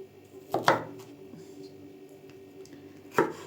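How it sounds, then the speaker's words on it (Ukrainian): A knife chops through red bell pepper on a cutting board, with a few sharp close strokes near the start, sparse lighter taps in the middle, and another firm cut at the end. "Це в нас болгарський перець червоний, зараз ми його поріжемо."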